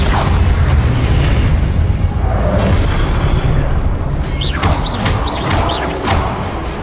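Fire spell effects from a Hogwarts Legacy combat sequence, loud booming bursts and crackling flames over a dense rumble, with a few sharp whooshing flares near the end.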